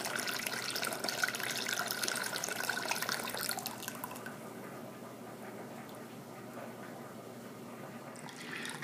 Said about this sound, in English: So I begin to sparge the wort, or the water with the grain, into my boiling pot